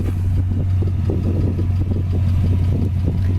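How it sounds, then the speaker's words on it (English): A 1966 Ford Fairlane engine idles steadily nearby, a low, even rumble with a constant hum and no one speaking. "Engine sits here and runs great too. Just sounds nice."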